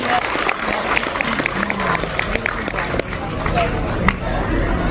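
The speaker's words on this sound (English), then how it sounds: "Can we have a big round of applause, please, for the Consul General?" An audience applauds for the Consul General at a Dubai mela festival event, a steady dense wash of many hands clapping throughout, with crowd murmur mixed in.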